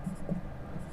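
Pen or marker scratching out a math solution on a board or page, a soft steady scraping with a couple of brief strokes standing out, close and faint.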